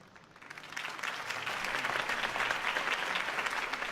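Video game crowd applauding a campaign speech steadily, the clapping swelling quickly after a quiet start and holding at a dense, sustained level.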